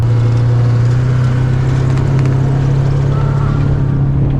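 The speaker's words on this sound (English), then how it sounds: "There's the skid steer." A skid steer loader running on a ranch, its engine giving a steady, loud, close droning hum with a strong low tone that holds throughout.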